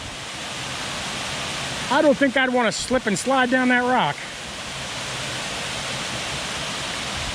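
A waterfall on the Van Hook Falls trail pours with a steady, full rushing roar throughout, while someone speaks briefly over it.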